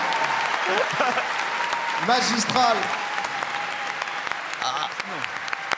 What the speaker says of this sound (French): on peut quand même l'applaudir